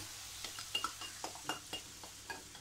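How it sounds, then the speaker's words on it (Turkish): Semolina halva mixture stirred in a pot after milk is added: a series of soft, rhythmic scraping and clinking strokes of the spoon over a faint background hiss, quiet and close, with no talking. "Ve karıştırıyorum da tabii ki."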